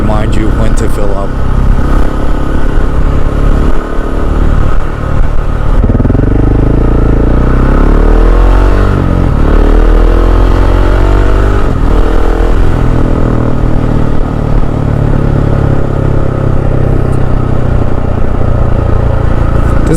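A KTM 690 SMC R supermoto with a Wings exhaust and quiet decibel-killer insert runs loud and close, its single-cylinder engine revving up and down steadily throughout.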